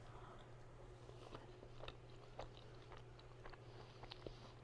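Biting into and chewing waffles made from a box mix, soft crunchy bites repeating at a steady pace over a constant low hum, close and fairly quiet.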